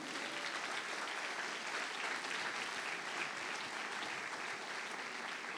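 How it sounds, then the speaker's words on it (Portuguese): A church congregation breaks into applause during a service, a dense, even wash of clapping heard from a moderate distance that holds steady throughout. "Você pode aplaudir a Jesus por isso?"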